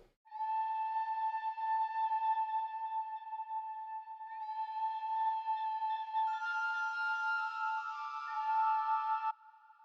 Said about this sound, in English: And that's how the flute sounds on its own.